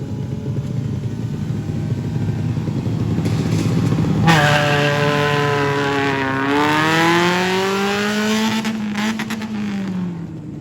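Mitsubishi Lancer at a drag racing championship in Aceh, engine revving hard through rising and falling pitch sweeps, climbing, dropping and climbing again, loud against crowd and track ambience.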